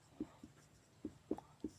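Chalk writing on a classroom board during a chemistry lesson, heard as a series of faint, soft taps and scratches in an uneven rhythm, close by in a quiet room.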